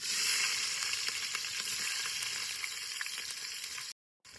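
Chopped onion drops into hot oil in a pot on a wood-fired chulha, a loud, steady sizzle and crackle that continues for about four seconds before a brief cutout near the end.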